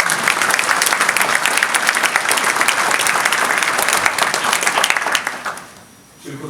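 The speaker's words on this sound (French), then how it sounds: "Et je crois que nous pouvons applaudir cette association" An audience applauds a local association at a mayor's New Year's address in Hayange, France: dense, steady clapping from a large crowd for about five seconds, then fading quickly to near silence.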